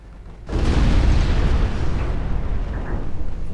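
A torpedo strikes a warship in the naval battle game Ultimate Admiral Dreadnoughts, a sudden deep booming explosion that swells and then rumbles on at length, loud and heavy with no voices.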